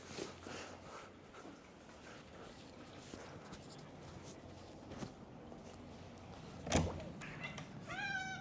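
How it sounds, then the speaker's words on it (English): A pet cat shut in a bathroom meows, faint and muffled at first, then one louder, drawn-out meow rises near the end over quiet room noise and light thumps. "he's meowing in the bathroom and I feel so bad"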